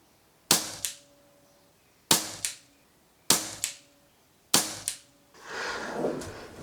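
Four sharp shots from a Weihrauch HW77 spring air rifle, each a crisp crack followed by a quick second knock, evenly spaced and close, with a softer rustle after the last.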